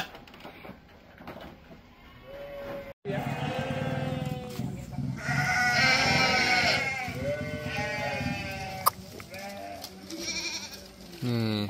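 A Texel sheep crossed with Dorper bleats several times, loud and close, the wavering cries overlapping on a livestock farm while people talk nearby.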